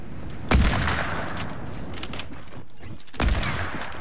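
Gunfire in Fortnite: two loud, sharp bursts about three seconds apart, each trailing into a noisy tail, with no talk in between.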